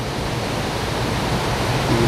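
Steady rushing water of Dry Run Creek flows continuously, a dense broadband wash heard close and fairly loud with no voices.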